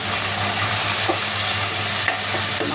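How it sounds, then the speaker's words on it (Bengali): Shrimp frying loudly with garlic, onion and salt in hot oil, a dense continuous sizzle close up with faint stirring scrapes and a small clink near the end. "বাগারের মধ্যে দিয়ে দিলাম চিংড়ি মাছ। এখন দেবো লবণ। এবার নাড়াচাড়া করে"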